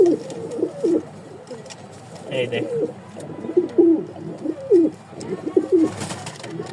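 Pigeons in a cage coo repeatedly in soft, throaty rolling calls, close by, with someone briefly speaking over them.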